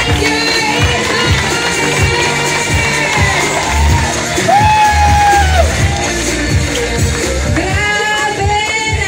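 A large crowd at an evening income-earners celebration event claps and cheers loudly and continuously, with shouts and whoops rising above a steady roar and faint music underneath.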